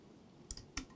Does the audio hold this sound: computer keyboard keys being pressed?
yes